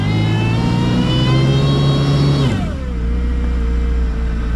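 Kawasaki Ultra 160 jet ski engine holding a steady, loud whine that drops sharply in pitch partway through as the throttle shifts in reverse, then settles into a lower, continuous drone.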